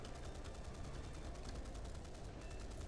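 Rapid, continuous gunfire fills a multiplayer video game battle, a dense, steady rattle of shots that holds at an even loudness throughout with no speech over it.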